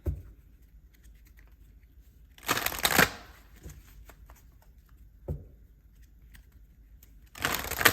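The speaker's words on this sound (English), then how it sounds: "And we're going to pull some cards." A deck of tarot cards being shuffled during a card reading: two clear bursts of riffling flutter near the start and end, a brief tap between, and quiet stretches otherwise, close and without talk.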